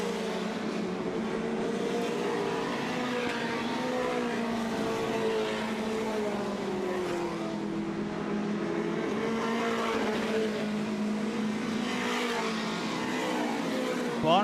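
Dirt track race cars roar around the Southern Ontario Motor Speedway oval in a sustained, wavering engine drone from a pack of cars, with pitch rising and falling as they pass, heard from the stands.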